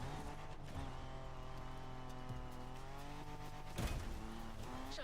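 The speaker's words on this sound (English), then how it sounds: "Nitrous up the hill." Nitrous boost uphill in The Crew Motorfest, a loud sustained engine roar with a rising harmonic whine, a brief burst of extra noise near the end, no talking.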